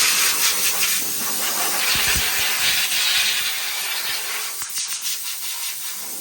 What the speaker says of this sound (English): Gonna use the air compressor here.